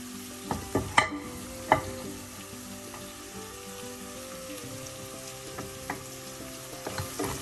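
Crushed onions sizzling in hot oil in a pan for Kollam-style mackerel pepper curry, a steady close frying hiss with a few stirring clinks and scrapes near the start, no talk.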